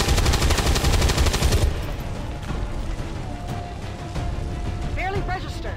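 Sustained burst of automatic gunfire aimed at a mech in the turn-based strategy game XCOM 2, loud for over a second, then lower combat rumble and mechanical sounds with voices speaking over the action.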